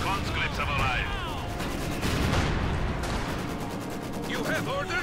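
Machine gun and other battle gunfire in Company of Heroes 2, with bursts and heavy blasts crashing continuously over a loud battlefield din, and voices heard under the fighting.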